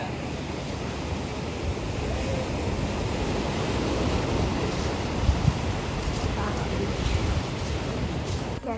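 Sea waves at Baga beach in Goa make a constant broadband rush of surf close by, with wind buffeting the microphone. No voices stand out above the roar.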